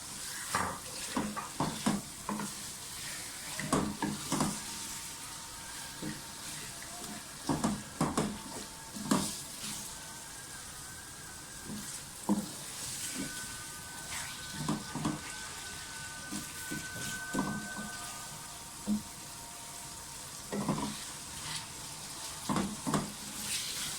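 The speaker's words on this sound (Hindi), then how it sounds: "कीमे को इस हद तक भुनेंगे, इसका कलर थोड़ा सा चेंज हो जाए" Minced meat keema fries in a pan, giving a steady sizzle broken by repeated scraping and clacking strokes of a spoon as it is stirred, close and without talk.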